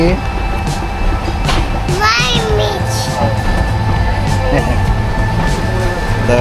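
The Brahmaputra Express pulls out of Gafargaon station in Bangladesh, a steady onboard rumble of the moving train heard under children's chatter and other voices.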